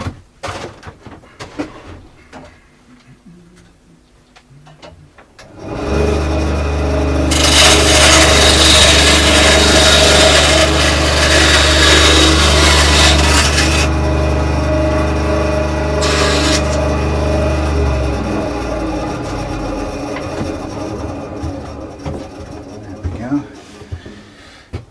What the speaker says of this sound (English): Let's have a go with the bandsaw,